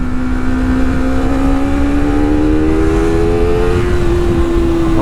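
Motorcycle engine held steady at 7,000 RPM, a loud continuous high-pitched buzzing drone close by with a slight upward drift in pitch, no talk.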